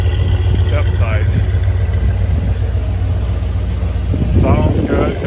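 A 1981 Chevrolet C10 step-side pickup truck engine runs steadily through a mild aftermarket exhaust, a low, close rumble that continues under a voice.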